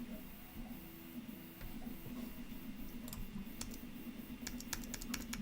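Someone types on a computer keyboard while coding, over a steady low hum: sparse quiet clicks at first, then a quicker run of keystrokes toward the end.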